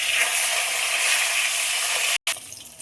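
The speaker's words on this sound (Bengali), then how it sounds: "তেল গরম হয়ে গেছে, আর মাছগুলো ভাজার জন্য ছেড়ে দেবো।" Fish fry in a pan of hot oil for a bitter gourd fish curry, giving a loud, continuous hissing sizzle close by that cuts out briefly near the end.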